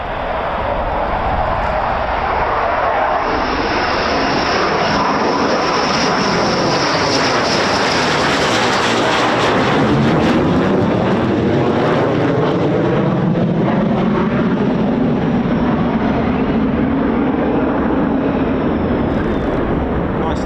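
A military fighter jet, an F-15 or F-35 at RAF Lakenheath, roars loudly and continuously, its broad engine rumble swelling and shifting in pitch as it passes, with a faint voice underneath.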